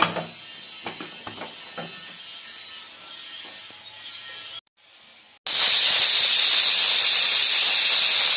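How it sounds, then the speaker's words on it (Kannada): A pressure cooker cooking rice on a stove lets off steam, with a few soft clicks and quiet hissing followed by a sudden loud, sustained steam whistle that continues to the end. "2 ವಿಸಿಲ್ ಆಗಿ ಕುಕ್ಕರ್ ಕೂಲಾಗಿದೆ."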